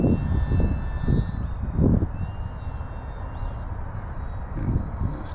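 Kavan Alpha 1500 RC powered glider cruising with its electric motor droning steadily in the air, a continuous mid-level hum mixed with gusty wind noise and no talking.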